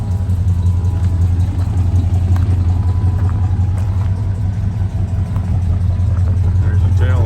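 A 1984 Chevrolet K20 truck with dual exhaust idles nearby, a steady low rumble with a faint electric fuel pump whine underneath, continuous and loud throughout.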